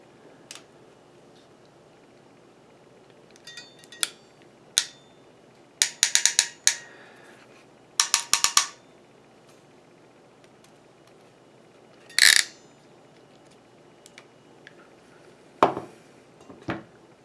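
Crimping tool squeezing an RJ45 pass-through connector onto a network cable, heard as a series of sharp ratcheting clicks in brief bursts, close and quiet with pauses between them.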